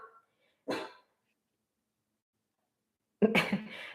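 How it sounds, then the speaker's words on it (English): A dog indoors at home gives two short, sharp barks about two and a half seconds apart, with silence between them. "my dog's gonna bark in a second, sorry. He heard the UPS guy."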